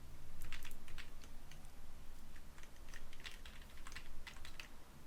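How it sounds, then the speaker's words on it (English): Fingers type long text on a computer keyboard in a fast, continuous patter of close, soft key clicks over a low steady background hum, with no speech. "And then all we want here is just to type some long text."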